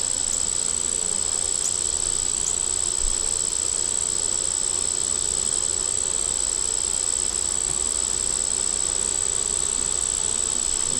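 Honey bees buzz steadily at an opened hive being worked, with agitated bees, a dense continuous drone filling the whole stretch without pause and no voices.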